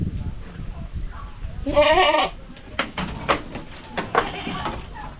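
Astro, the buck and sire of a herd of young goats, bleats in a loud harmonic cry midway, followed by further short calls and animal noise with background voices on a dry-season farm.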